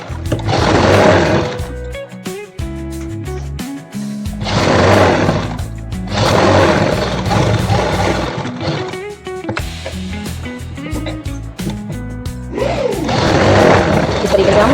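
Sewing machine stitching the side seam of a suit runs in loud, close bursts of whirring with short pauses between them, while someone speaks between and over the runs.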